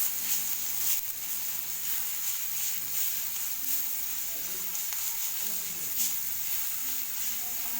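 Green chili and garlic paste ground in a mixer sautés in oil in a pan, giving a steady close hiss of sizzling that runs evenly throughout with faint stirring.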